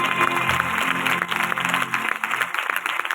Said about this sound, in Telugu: నమ్మినట్లయితే చప్పట్లు కొడగడా.